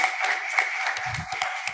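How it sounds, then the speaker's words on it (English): An audience in a church service applauds a guest speaker with a steady, moderately loud wash of clapping that runs through the whole stretch, with a few sharper claps standing out. "let's give him another round of applause"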